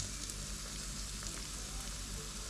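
Pork sizzles on a Thai mu kratha grill at an outdoor meal, a soft, steady frying crackle with a constant hiss running throughout, fairly quiet and with no voices.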